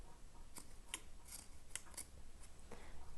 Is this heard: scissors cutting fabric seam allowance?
yes